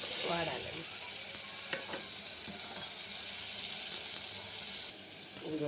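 Mutton pieces frying in a pan for a curry, a steady loud sizzle with stirring scrapes and clinks throughout, close up, easing slightly near the end.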